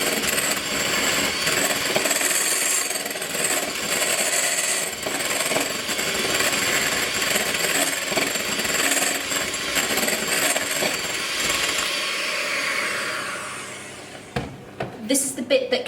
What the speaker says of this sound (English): I'm going to sprinkle that in, and then I'm going to whisk that in really thoroughly.